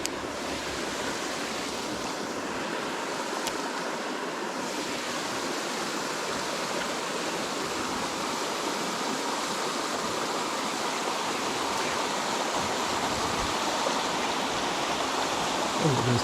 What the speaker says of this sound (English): Look at this pretty side creek.